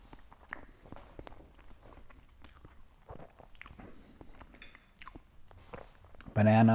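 Close, wet chewing and biting on a protein waffle topped with banana, chocolate and peanut butter, irregular crunchy bites and mouth sounds, ending with a sudden loud burst.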